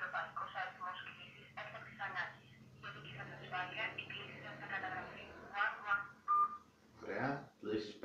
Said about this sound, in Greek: Να ακούσουμε λίγο ανοιχτή ακροασία.